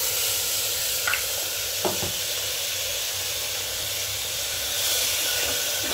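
Water from rinsing a mixer jar poured into a hot pan of mung dal and sweet potato, raising a steady loud hiss and steam with a few faint utensil clicks early on.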